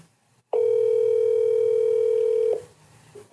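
A telephone dial tone sounds while a call is placed to a rap finalist on a live broadcast. It is one loud, steady, close tone of about two seconds that starts and stops abruptly, with quiet room noise around it.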